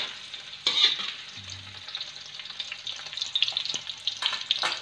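Spices stir-frying over a low flame in a pan: a steady sizzle runs throughout, with scraping stirs and light clatters of the utensil, fairly close and moderate in level, no talking.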